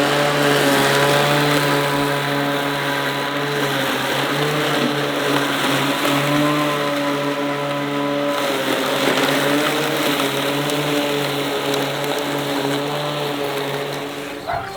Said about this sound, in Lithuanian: Attention. Lawnmower starting now.